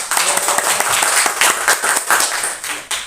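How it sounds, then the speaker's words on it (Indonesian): A standing group claps together at an Indonesian gathering, loud and close, a steady patter of many hands with a few sharper individual claps standing out, lasting about three seconds. "Yo, tepuk tangan dulu."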